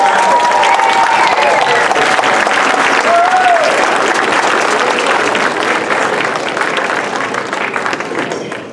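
A school audience at the North Shore Academy breaks into loud, sustained applause and cheering, dense clapping filling the room from start to finish, with faint voices in the mix.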